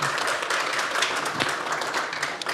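An audience at a political panel discussion on Wisconsin gives the panel a round of applause, dense steady clapping filling the room throughout at a loud, even level.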